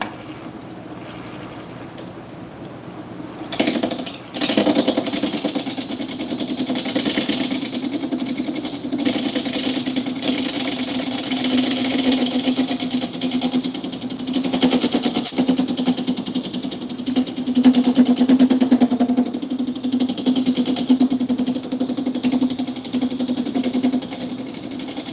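A wood lathe spinning up after a few seconds and running on, a steady droning hum with rough scraping of a tool against the turning waxed wood.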